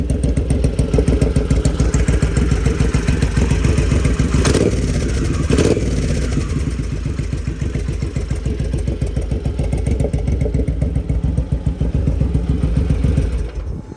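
A 2002 Suzuki Boulevard motorcycle engine idles loudly and steadily close by, its rapid chugging rhythm continuous with a couple of brief revs.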